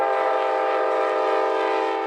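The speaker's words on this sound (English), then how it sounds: "a new stop on the Mardi Gras line, a passenger train promising to deliver thousands more tourists" A passenger train on the Mardi Gras line at Bay St. Louis sounds its horn in one loud, sustained chord-like blast that holds steady throughout, with nothing else audible.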